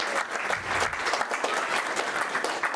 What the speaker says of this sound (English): Round of applause, everybody, for me in a relationship.